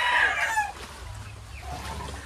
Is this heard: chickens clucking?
yes